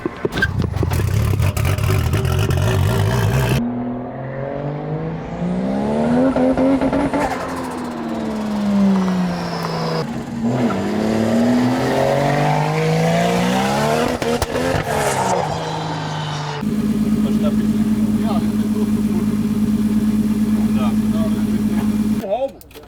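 A Mazda RX7 drifts on a race track with its rear tires underinflated, its engine rising and falling loudly and tires squealing through sweeping slides, with abrupt cuts between passes.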